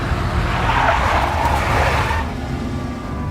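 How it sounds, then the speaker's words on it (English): A big black Mercedes skids in the Max Payne video game, tires squealing loudly over engine noise for about two seconds before the screech cuts off, leaving a quieter hum. "A big black Mercedes."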